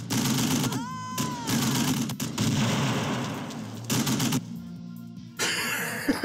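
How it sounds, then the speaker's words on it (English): Machine gun fire in the video game Tempest Citadel, loud sustained bursts of rapid shots broken by short gaps, with a brief whistling tone early on. "How overpowered machine guns are!"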